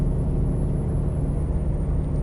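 A Volvo-like Volvo VNL 660 truck engine in American Truck Simulator, a steady low droning rumble running close and constant with no talk over it.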